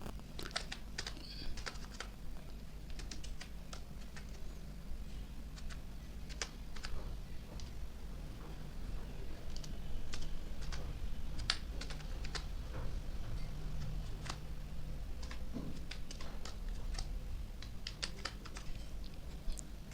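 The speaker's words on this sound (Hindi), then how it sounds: "टाइप करके एक बार दिखा देता हूँ।" Steady typing on a computer keyboard during CSS coding, crisp key clicks running continuously for the whole stretch at a moderate, uneven pace.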